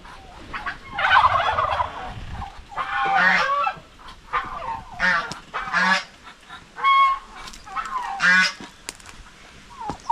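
Turkeys on a small farm gobble in repeated rattling bursts, fairly close, with short gaps between calls and faint background noise.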